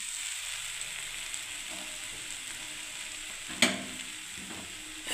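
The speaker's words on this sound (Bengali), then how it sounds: "এখন আমি নাড়ছি, কষছি এখনও সয়াবিন আলু সবজিটাকে" Soybean and potato curry being stirred and fried in a pan: a steady, close sizzle throughout, broken by one sharp clatter of the utensil against the pan near the end.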